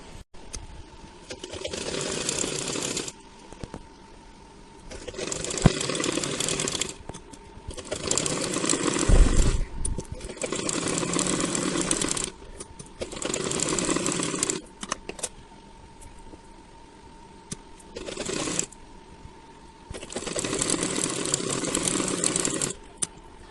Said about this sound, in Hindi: इस तरह से रख के अब इसको सिलाई करेंगे।